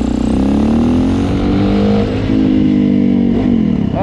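Suzuki DRZ400E dirt bike engine revving hard during a power wheelie, a loud continuous close-up roar with rising and falling pitch and a brief throttle dip before climbing again near the end.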